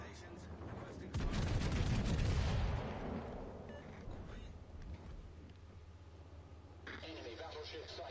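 Naval gunfire from warships in World of Warships Legends: a loud burst of overlapping gun blasts and booms in the first few seconds, followed by fading rumble with engine and water noise as a voice talks over the game.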